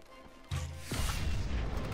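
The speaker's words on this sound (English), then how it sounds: "Shooting fireworks at gorillas." In the Kung Fu Panda video game, fireworks fired at gorillas burst with a sudden deep boom, then break into a loud crackling, rumbling blast that carries on for a moment.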